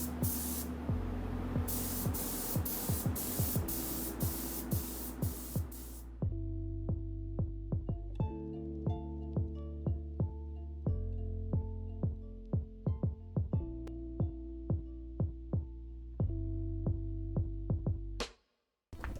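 Yellow etch primer is sprayed onto a car bonnet in a rapid series of short, close hissing bursts for several seconds, followed by a long run of evenly spaced clicks and taps over a steady low background.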